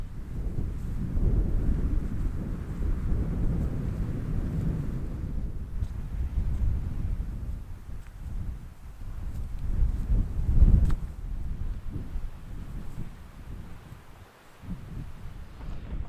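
Strong wind roars continuously across an exposed mountainside during a solo camping trip, buffeting the microphone with a dense, rumbling gust noise that swells and eases over the whole stretch.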